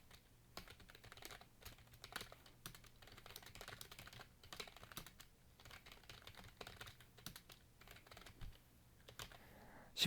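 Typing on a computer keyboard while entering Korean text in PowerPoint, with steady bursts of close key clicks and heavier Shift and Enter presses, no voices heard.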